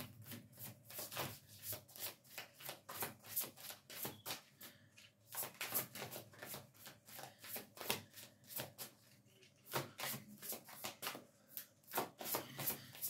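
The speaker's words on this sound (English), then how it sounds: "these cards are so hard to shuffle." Tarot cards are shuffled close up, a rapid series of crisp riffling bursts repeating over and over with brief pauses between them.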